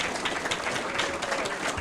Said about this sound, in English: Let's give one of our youngest board members another great big round of applause.